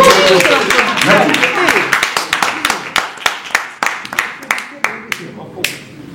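Audience applause at a press conference in Paris, starting as dense clapping mixed with voices, then thinning into scattered individual claps that fade out near the end.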